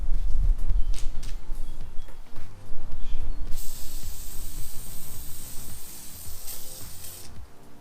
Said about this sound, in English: when you spray the brake parts cleaner